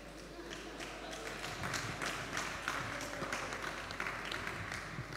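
Audience applause at a men's church seminar, a dense, steady wash of clapping that holds at an even level throughout, with some background murmur.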